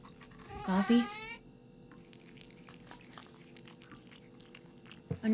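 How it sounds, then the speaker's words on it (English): A cat in the video game The Operator meows once fairly loudly, followed by faint wet chewing and eating sounds that go on steadily, with another short sound at the end. "Another kitty cat's eating."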